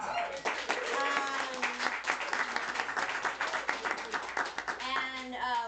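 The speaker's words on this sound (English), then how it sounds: "Yeah, we can clap for it." Audience at a literary translation event clapping, a dense, steady patter of many hands close by that runs throughout, with voices and cheerful murmurs rising over it.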